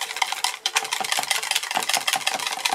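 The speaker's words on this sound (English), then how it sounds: "So we'll get our whisk out. Whisk that up." A whisk beats goat milk soap batter in a container with quick, steady scraping strokes, close and continuous for a few seconds.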